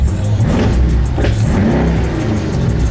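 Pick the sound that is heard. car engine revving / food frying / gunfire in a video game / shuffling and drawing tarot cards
car engine revving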